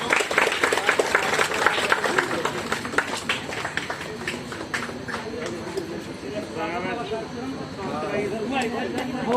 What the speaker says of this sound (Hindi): एक बार ताली से स्वागत करते हैं।